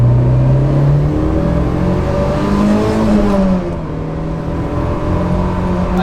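Mitsubishi Evo 8 with an aftermarket air intake pulling in second gear from about 30 mph, a loud, steady engine drone with rising tone and intake whir, heard from inside the car.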